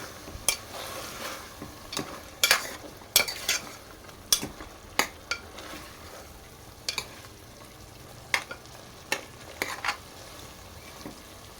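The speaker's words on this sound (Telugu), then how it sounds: "అల్లం వెల్లుల్లి పేస్ట్ వన్ టేబుల్ స్పూన్ ఒకసారి మిక్స్ చేసేసుకోవాలి" Turmeric and ginger garlic paste being stirred in a pan for mutton masala curry, with sharp intermittent scrapes and clinks of a spoon against metal over a faint sizzle, close and without talk.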